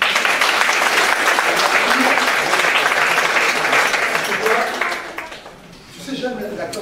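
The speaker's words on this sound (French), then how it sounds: "Applaudissez-vous." A conference audience applauds itself, a loud, sustained wash of many clapping hands with some voices mixed in, thinning out and fading toward the end.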